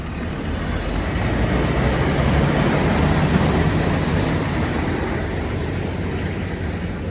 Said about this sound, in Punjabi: ਲੋ ਵੀ ਅੱਜ ਦੇਖਣਾ ਟਰੈਕਟਰ ਦਾ ਜ਼ੋਰ 18 ਫੁੱਟੀ ਟਰਾਲੀ ਆ